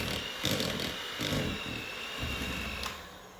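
Electric hand mixer whisking cake batter for a Victoria sponge on low speed, a steady whirring drone with a few bumps of the beaters against the bowl, close and fairly loud throughout.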